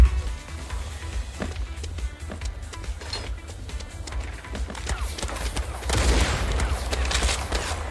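Rapid gunfire bursts from the video game Pixel Gun 2, a dense stream of shots and impacts against a low rumbling game score, growing louder and harsher toward the end.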